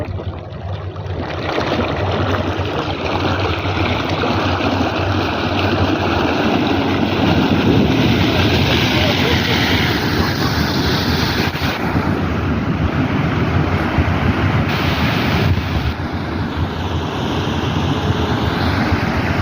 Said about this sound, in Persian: حداقل 10 متر آب پرتاب میشه